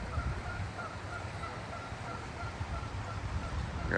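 Geese behind a building along a river walk in Pigeon Forge, Tennessee give faint, repeated honks over a steady outdoor background hum.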